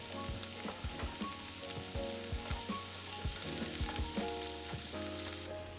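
Onions frying to golden brown in a pan for smash burgers give a steady close sizzle, with crackles and pops spread throughout and no voices.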